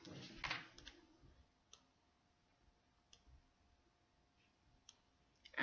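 Sparse, crisp computer mouse clicks sound while items are dragged around a screen, a few isolated taps separated by near silence, with a faint steady tone in the background.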